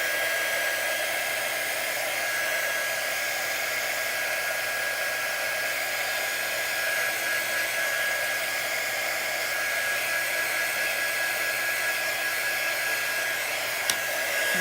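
A hair dryer blowing on a raw wood craft piece, a steady, loud whooshing whine held without a break for the whole stretch, with no talk over it.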